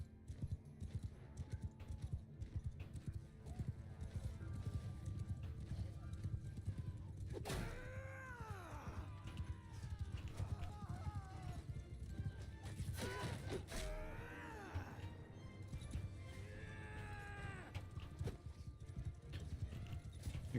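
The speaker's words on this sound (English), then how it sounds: "There's their pack mules and shit." Pack mules plod along in the Mount & Blade 2 video game, a steady clip-clop of hooves under scattered whinny-like cries and game sounds, fairly faint.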